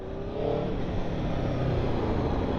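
Aprilia Tuono V4 Factory 1100 (2021) motorcycle pulling away with a steady, close engine drone that rises slightly in pitch, continuous throughout without speech.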